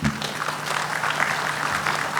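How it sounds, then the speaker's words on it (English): A conference audience at an inaugural session gives a warm round of applause, a soft, steady wash of clapping at moderate loudness with a faint hum beneath. "Please help me welcome Dr. Suresh with a warm round of applause, ladies and gentlemen."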